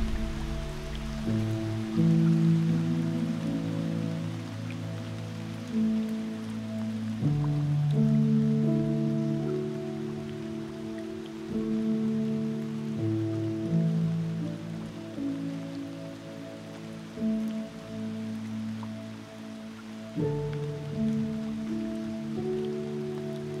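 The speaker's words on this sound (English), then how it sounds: "the rain's back on and the sun's gone again" Rain falls steadily in a forest, a soft continuous patter on leaves and ground with low droning tones running beneath it throughout, moderate in level and without voices.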